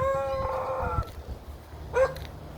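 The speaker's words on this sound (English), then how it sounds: "A dog." A dog outdoors near homes in Port Richey, Florida, gives a drawn-out tonal bark or howl, then one short sharp call, moderately distant over quiet background.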